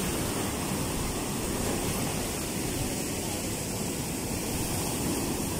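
Strong sea waves pounding a village shoreline after Typhoon Egay, a constant dense roar of surf and wind filling the whole stretch at steady loudness with no distinct breaks or voices.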